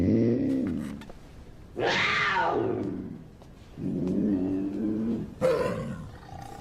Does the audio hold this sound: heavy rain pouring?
no